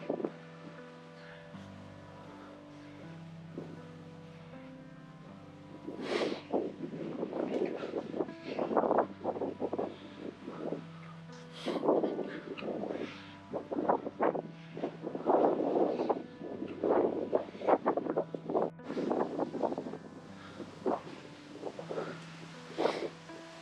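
Gusts of wind rumble and buffet in irregular bursts, louder in the middle and near the end, over a low steady hum, with no voices.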